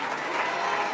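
A church congregation claps together in a dense, steady wash of applause that holds evenly throughout, close and fairly loud.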